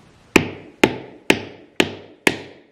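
Hammer striking a walnut five times in an even rhythm, each a sharp close knock with a short ringing tail and quiet gaps between.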